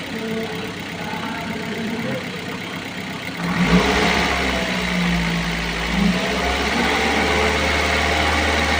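A car engine held at a steady 2000 RPM under electrical load with the air conditioning off, a low continuous hum that steps up in level a few seconds in and stays even, heard alone up close.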